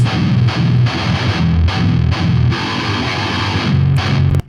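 Heavily distorted modern metal electric guitar played through a Buster Odeholm Oceanor impulse response, chugging in tight rhythmic bursts with dense low-end palm-muted hits and bright upper crunch, loud and close with no voices.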